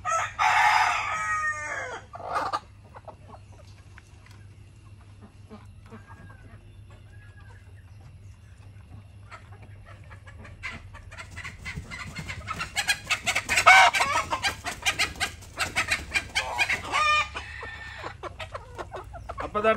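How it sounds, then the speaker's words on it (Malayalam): Old native hens and roosters, some four to five years old, cluck and crow nearby, with a rooster's crow near the start and a busier burst of clucking later over a low steady hum. "ഇപ്പത്തോട്ട് നമ്മളെ പഴയ പിന്നെന്താ കോഴികളാണ്."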